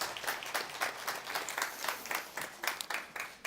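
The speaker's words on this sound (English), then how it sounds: "So I just want to give a round of applause, folks." Applause at a company all-hands meeting, dense rapid clapping from a crowd that rises and falls in waves and carries on through the whole stretch.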